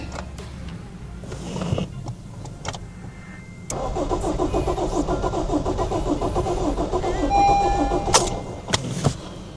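A Honda Civic with a lingering crash fault cranks repeatedly without catching, a fast, even churning of the starter that runs for several seconds at close range after a short rattle.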